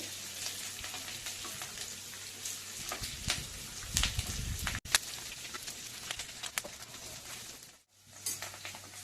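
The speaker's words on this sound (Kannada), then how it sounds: "ಇವಾಗ ಎಣ್ಣೆಯಲ್ಲಿ ಚೆನ್ನಾಗಿ ಹುರಿದಾಗಿದೆ ಒಂದು ಮೆಣಸಿನ್ಕಾಯಿ" Green chili sizzling in hot oil for a restaurant-style capsicum masala, a steady crackling fry with a burst of louder spattering and stirring midway, utensil clinks, and a brief drop in the sizzle near the end.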